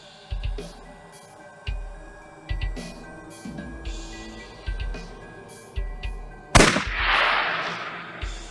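Gunshots in the video game AI: The Somnium Files, sounding as a series of sharp, evenly spaced reports over a steady game soundtrack, ending with one louder blast that trails into a hissing burst.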